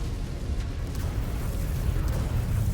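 Explosion from an incoming missile strike in the MechWarrior 5: Clans game, heard as a dense, continuous low rumbling roar that holds steady and loud throughout, with no talk over it.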